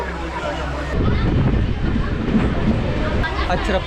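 A MEMU electric passenger train running from Viluppuram to Chennai Egmore, heard from inside as a constant loud rumble and rushing wind noise that grows heavier after the first second.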